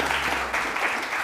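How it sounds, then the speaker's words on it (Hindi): Studio audience at a Pakistani TV morning show applauding, a steady dense wash of clapping through the whole short moment, fairly loud and with no break. "अरूबा के लिए बहुत सारी तालियां"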